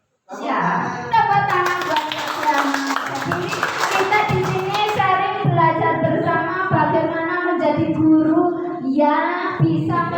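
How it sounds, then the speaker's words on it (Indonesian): Applause and scattered clapping from a gathered audience of teachers greeting a speaker at a school event, loud and close, running steadily for several seconds with voices mixed in. "Ya, tepuk tangan buat Bapak."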